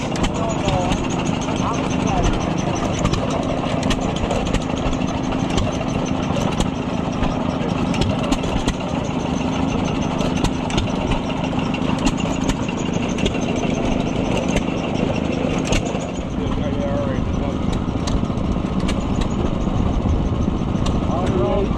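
A trailer load of antique John Deere engines runs at an outdoor antique machinery show, producing a steady, rumbling chug with rhythmic ticks and pops throughout, loud and close, while people talk nearby.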